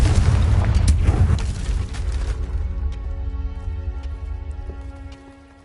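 Casting the Confringo fire spell in the Hogwarts video game sets off a loud, deep boom that rumbles for about two seconds. Crackling debris and a ringing tail follow and fade out, with no speech.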